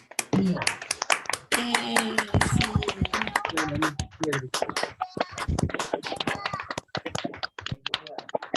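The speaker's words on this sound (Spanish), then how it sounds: "si abrimos nuestros micrófonos y le damos un aplauso a la doctora Rosario" Scattered clapping from an online lecture audience with microphones open, honoring a doctor after her talk; uneven sharp claps mixed with overlapping voices and chatter, loud and close, ending in isolated claps.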